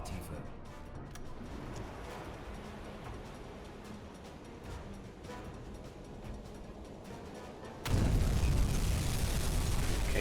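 Torpedo strike on a ship in the submarine game Uboat: a low rumbling bed of noise that bursts into a loud, sustained blast near the end.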